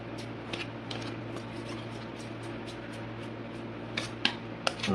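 Tarot cards are pulled and handled in a quiet room, producing faint, repeated light flicks and taps over a low steady background hum, with a few sharper clicks toward the end.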